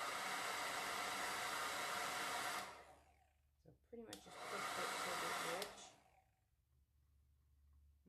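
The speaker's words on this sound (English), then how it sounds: "I haven't used the hairdryer for a while." A hair dryer blows steadily and loudly over a first layer of metallic resin art on a lazy Susan, cutting out briefly and starting again before fading away, with a short spoken remark near the end.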